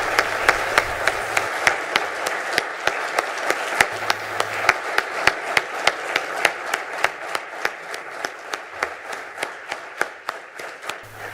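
An audience applauds after a speech with a sustained wash of clapping, sharp individual claps standing out at a steady beat, gradually thinning toward the end.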